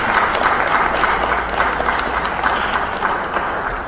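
Sustained applause from a family conference audience, a steady broadband wash of clapping that stays loud and even throughout, with no speech over it.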